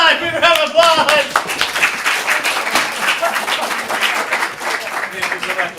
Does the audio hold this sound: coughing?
no